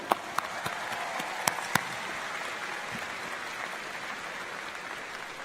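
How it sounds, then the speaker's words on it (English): Audience applause at a large graduation ceremony, a broad steady wash of clapping with a few sharper nearby claps standing out early on. "Let's thank all of them with a big round of applause"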